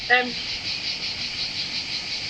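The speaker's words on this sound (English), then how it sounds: "If you can hear me above the cicadas, that is noisy buggers." Steady, loud, high-pitched buzzing of cicadas fills the air, pulsing slightly, with a brief voice at the very start.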